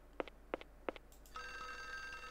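In the Windows 95 version of the game Clock Tower, a telephone rings in three short, evenly spaced trills, followed by a steady electronic tone, faint and with no voices.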